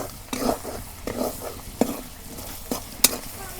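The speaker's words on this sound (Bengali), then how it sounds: "শুটকি মাছগুলো আমি তেল দিয়ে ভাজতেছি পরে একটুকা পানি দেবো দিয়ে শুটকি মাছ কষে নেব" Dried fish frying in oil in a pan, stirred with a utensil: several scraping stir strokes and a sharp clink over a soft, steady sizzle, close and alone.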